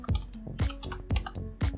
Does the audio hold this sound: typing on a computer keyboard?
yes